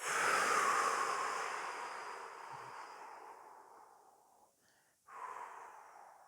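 A slow, deep inhalation during a breathing exercise for anxiety and the diaphragm, close and breathy, drawing in steadily and fading. A short pause follows, then a fresh breath begins.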